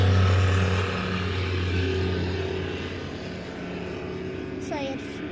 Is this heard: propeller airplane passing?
yes